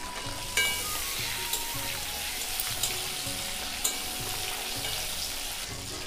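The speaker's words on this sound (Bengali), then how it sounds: "আরও 2 চামচ তেল দেব, 1টা শুকনো লঙ্কা, 2টো তেজপাতা আর 5 ফোড়ন দিচ্ছি ফোড়নে।" Dried red chili, bay leaves and Bengali five-spice sizzling in hot oil in a pan, a steady crackling fry with scattered sharp pops and occasional stirring clinks, close and alone.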